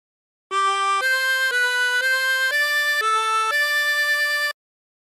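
A 24-hole tremolo harmonica plays a phrase of Aura Lee as seven clear sustained notes in smooth succession, loud and close, with no other sound.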